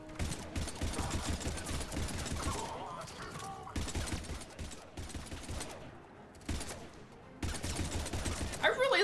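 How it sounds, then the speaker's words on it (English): Pistol gunfire in Mass Effect 3 combat, repeated bursts of sharp shots in clusters separated by brief lulls, loud and close over game noise, with chatter mixed in. "I really like this pistol, and I probably shouldn't use it this much, but I'm using it anyways."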